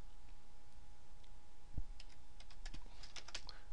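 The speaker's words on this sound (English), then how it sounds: "So I'm going to type a 0 here." Keys on a computer keyboard click in a short, uneven run of taps, closely miked and fairly quiet, with a single thump partway through and no talking.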